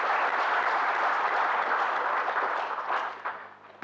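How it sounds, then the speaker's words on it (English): Sustained applause from a seated audience at a conference closing ceremony, a dense, steady wash of clapping that holds level and then tapers off near the end. "I would request you to give one more round of applause."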